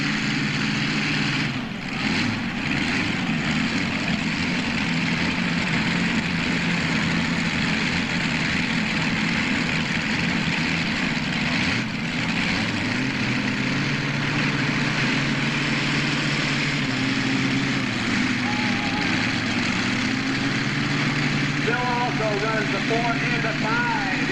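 A modified pulling tractor powered by a 526 cubic inch C-flat Oldsmobile Hemi roars at an NTPA pull in Inwood, Ontario, a loud continuous engine drone with shifting pitch throughout, an announcer's voice over it.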